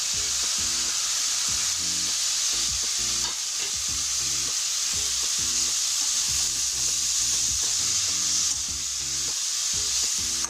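Egg bhurji with vegetables and dill leaves sizzles in hot oil while a spatula stirs it in a pan, with steady frying hiss and repeated rhythmic scraping strokes close up.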